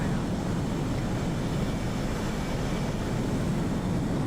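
An F/A-18 jet lands on an aircraft carrier in the DCS flight game, a continuous loud engine roar and rushing drone filling the clip without a break.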